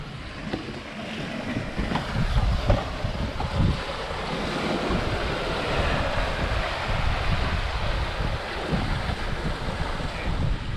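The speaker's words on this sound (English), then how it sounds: "Pushing along here, we've been doing 6 to 8 knots in 15 to 22 knots of wind" A sailboat running under headsail alone in 15 to 22 knots of wind at 6 to 8 knots, with steady loud wind rush over the microphone and continuous water and swell washing past the hull.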